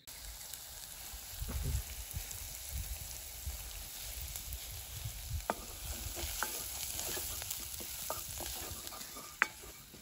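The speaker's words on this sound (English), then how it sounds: "That is proper cooking on a fire." Food cooks over an outdoor campfire, a faint, steady sizzle and hiss with scattered soft pops and crackles and an occasional sharper click, heard from close by with no talk.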